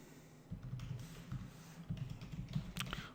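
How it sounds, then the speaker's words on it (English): A computer keyboard clatters with quick, uneven keystrokes in short bursts. The typing is soft and close, with faint background hum and no voices. "And let's type"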